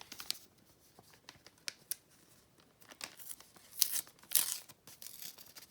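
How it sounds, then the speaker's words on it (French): Paper tearing and crinkling as a small horror-themed greeting card is opened, soft close rustles and snips building to a couple of sharper rips near the end, no talking. "Je vais d'abord ouvrir sa petite carte."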